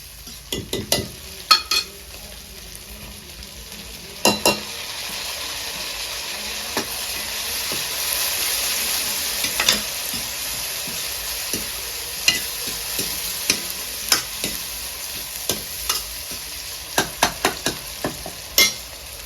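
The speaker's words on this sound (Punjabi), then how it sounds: "ਆਹ ਦੇਖੋ ਜੀ ਹੁਣ ਸਾਡਾ ਤੜਕਾ ਲੱਗ ਜਾਏਗਾ" Loud, steady sizzling of spices tempering in hot oil in a frying pan for Punjabi sarson ka saag, crackling with scattered sharp pops and spits throughout.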